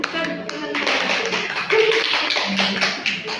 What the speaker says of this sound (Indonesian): Tepukkan tangan.